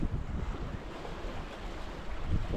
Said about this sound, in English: the waves are not coming on directly astern